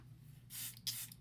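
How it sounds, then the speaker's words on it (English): Two short hissing bursts of Charlotte Tilbury setting spray misted onto a made-up face, close and fairly soft, over a faint low hum. "I'm going in with the Charlotte Tilbury setting spray."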